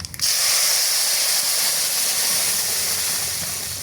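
Hot tempering (baghar) poured into a pot of khichuri, bursting into a loud sudden sizzle that holds as a steady hiss and slowly fades over a few seconds.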